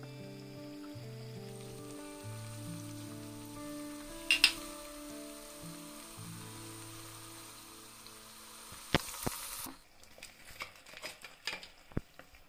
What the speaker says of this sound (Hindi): हम एक कढ़ाई में तेल गरम कर लिया है मैंने इसको, अब हम इसको डीप फ्राई कर लेंगे